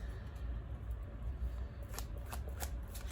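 Tarot cards shuffled close by, a soft continuous riffling rustle with a few crisp snaps toward the end, over a low background hum.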